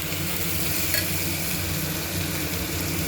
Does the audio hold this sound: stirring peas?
yes